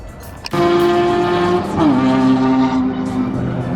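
Race car on track at an SCCA event at Palm Beach International Raceway, its engine roaring up sharply after a thump and holding a loud, steady tone that dips as it shifts, close and dominant.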